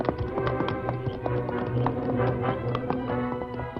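Horse hooves clip-clop steadily at a trot throughout, two horses named Silver and Scout heading off in a radio drama sound effect, with a dense rhythmic patter of hoofbeats over a low background bed.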